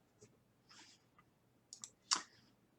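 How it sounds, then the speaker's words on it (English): Soft computer mouse clicks sound close by in a quiet room, a few scattered taps ending in one sharper click. "we click on calculate"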